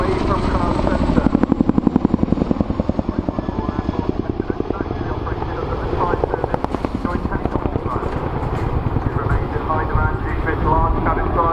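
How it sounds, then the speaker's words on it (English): An RAF Chinook helicopter flies a display manoeuvre at an airshow, its rotors giving a loud, continuous rhythmic chopping that swells and eases as it moves, with an announcer talking over it. "The Chinook is now going to break away shortly to perform a 60-degree offset wing over away from Crown Centre."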